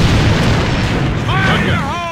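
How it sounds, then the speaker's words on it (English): Grenade explosion in the shooter AVA, a loud booming rumble sustained throughout, with a voice briefly speaking over the tail end. "Grenade!"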